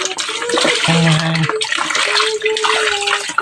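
Water poured from a dipper splashes continuously over chicken pieces being washed in a home kitchen, a steady close pouring and sloshing with a brief voice near the start.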